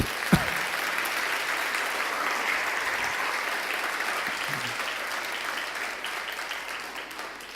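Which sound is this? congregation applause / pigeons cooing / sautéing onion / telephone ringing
congregation applause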